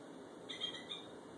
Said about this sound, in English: this is what a bald eagle sounds like